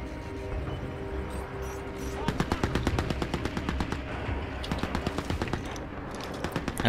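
A Typhoon weapon fires in Crysis 3 in rapid, loud bursts of closely spaced shots, staccato volleys that start after a short lull and continue with brief pauses.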